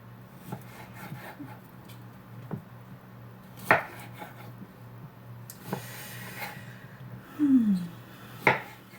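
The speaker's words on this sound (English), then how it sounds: "So I'm just chopping up my Honeycrisp apple and Bartlett pear into smaller pieces" A Honeycrisp apple and a Bartlett pear are chopped into smaller pieces with a knife, giving sparse, scattered chops against the board at close range, with a brief squeak partway through.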